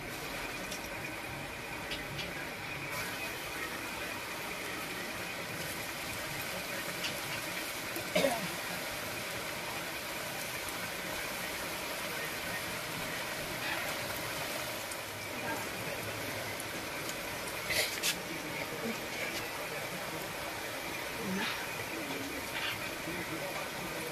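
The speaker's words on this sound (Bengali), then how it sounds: "এবার আমি এক এক করে এগুলো ভাজার জন্য ছেড়ে দিচ্ছি।" Jackfruit koftas frying in hot oil in a wok, a continuous dense sizzle and crackle with scattered pops, steady and close throughout, with a voice speaking intermittently over it.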